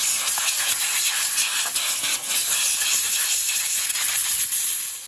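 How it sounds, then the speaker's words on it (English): Compressed air blasts out the ignition coil area of a Chevy Cobalt engine in one continuous, loud, bright hiss lasting the full few seconds without a break. "I'm gonna blow this out with compressed air."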